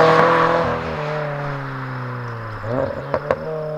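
A car fitted with an Elite Spec-style aftermarket exhaust idles with a steady low drone, then gives a couple of short throttle blips near the end, heard alone without talk.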